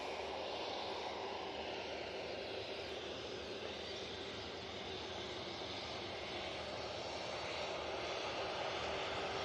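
British Airways airliner with a damaged radome rolling off the runway onto taxiway Tango at Manchester Airport, a quiet, steady engine drone with a soft whine held throughout.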